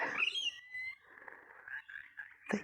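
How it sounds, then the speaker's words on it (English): Early morning in Australian trees, a single bird gives a clear descending whistled call followed by a softer sustained warbling note, fairly close and alone in quiet surroundings, ending with a brief sharp rustle. "I can't see the birds, but obviously they're there."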